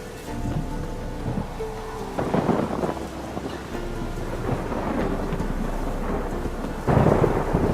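Thunder and rain in The Witcher 3: steady rainfall under repeated deep rolling thunder rumbles, with louder cracks near the start and end.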